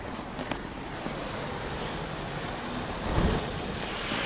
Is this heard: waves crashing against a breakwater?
yes